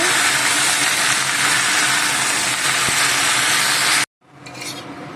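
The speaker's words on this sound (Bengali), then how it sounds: "এখানে আমি শাক সেদ্ধটা দিয়ে দিচ্ছি পানিটা খেতে নিয়েছি এরকম করে নেড়ে ভেজে নেব" Boiled pumpkin greens and drumstick leaves hiss and sizzle loudly as they are stirred and fried in a pan with browned onion, garlic and chilli. The frying noise is steady and close, then drops to near silence.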